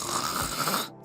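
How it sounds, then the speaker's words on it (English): A man snores loudly in one long, rasping breath that cuts off abruptly into silence. "stop with the snoring. It's too loud."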